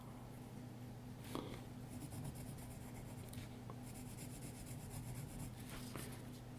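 Pencil hatching on coarse, textured drawing paper: quiet, repeated scratchy strokes rub back and forth in quick bursts, close up over a steady low hum, with no talking.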